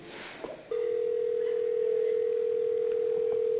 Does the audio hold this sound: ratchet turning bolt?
no